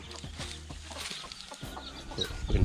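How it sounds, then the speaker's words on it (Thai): Backyard chickens cluck and murmur inside a low-cost homemade coop housing a dozen or so birds, overlapping soft calls at close range with rustling and a thump at the end. "ตอนนี้มีไก่อยู่สิบกว่าตัวครับ"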